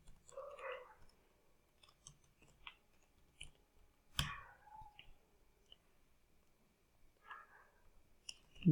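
Sparse keyboard key clicks from typing into an Excel spreadsheet, quiet and irregular, with scattered single taps and short bursts separated by pauses.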